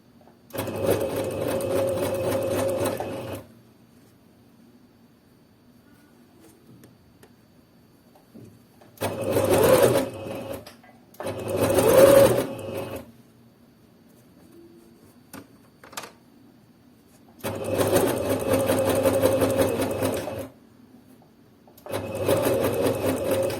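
Sewing machine stitching a folded skirt hem, running in several separate bursts of steady mechanical whirring with quiet pauses between them, close and moderately loud.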